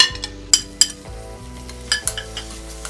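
Finely chopped tomatoes go into a pan of lightly pinkened frying onions for chicken tikka, with a few sharp metallic clinks of a spoon against the pan over a low sizzle.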